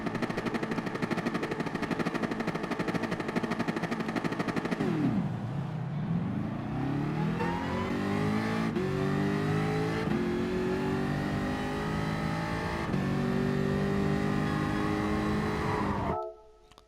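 A race car engine in a racing video game, droning at high revs, then dropping sharply and climbing through rising gear-by-gear pitch sweeps, loud and continuous until it cuts off abruptly, no voices.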